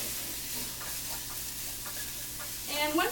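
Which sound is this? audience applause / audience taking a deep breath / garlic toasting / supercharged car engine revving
garlic toasting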